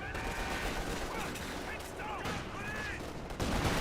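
Grenade blasts and bursts of gunfire in the World War II strategy game Company of Heroes 2, a dense continuous battle din with sharp impacts and a louder burst near the end, under a commentator's voice.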